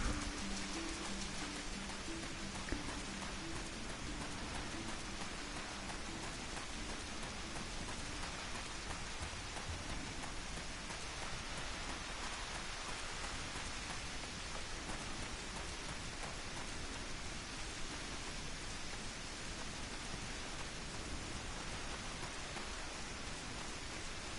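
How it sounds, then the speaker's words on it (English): Heavy rain in Final Fantasy XIV pours down as a dense, steady hiss that runs evenly from start to finish with no voices over it. "Heavy rain."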